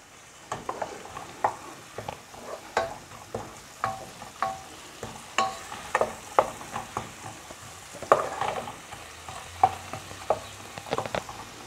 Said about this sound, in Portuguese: agora que já derreteu a nossa manteiga